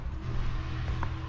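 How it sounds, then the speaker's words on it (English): A loud car rolls past near a neighborhood fishing dock, its engine a steady low rumble filling the whole moment at close range, with no voices over it. "That is a loud car."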